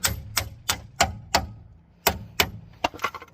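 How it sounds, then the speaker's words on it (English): Sharp metallic hammer taps on a front ball joint of a 2015-2021 Kia Sedona, about ten, in an uneven rhythm with short pauses, close and loud, no talking. "You can take an hammer and tap on it"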